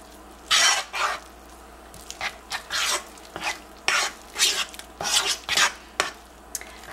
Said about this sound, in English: I can just add in 2 cups and then just kind of stir it around with a spoon